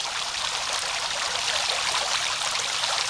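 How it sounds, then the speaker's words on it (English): Water pours steadily from the highest bowl of a fountain, a close, continuous splashing rush with no voices. "There's the very highest bowl where the water comes out."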